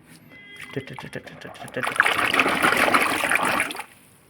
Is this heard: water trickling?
yes